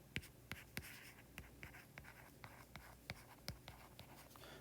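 Chalk or marker on a lecture-hall board during a projectile-motion lecture, sharp tapping strokes and scratchy squeaks in an irregular rhythm, faint and somewhat distant, with no talking.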